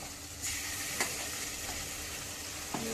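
Raw half-kilo of chicken dropped into hot oil with fried ginger garlic paste, a steady sizzle with a few sharp clinks and scrapes of stirring, close and fairly quiet, no talking.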